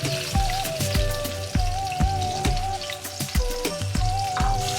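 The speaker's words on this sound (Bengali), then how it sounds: "সুন্দর করে কড়া করে ভেজে নিচ্ছি মাছগুলোকে" Hilsa fish fry in hot mustard oil in a wok, crackling and popping in rapid, uneven bursts over a continuous sizzle, close and fairly loud.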